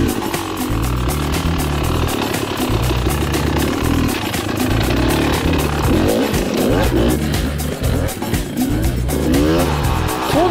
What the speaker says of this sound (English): Emma got to do a lap on the Beta Cross Trainer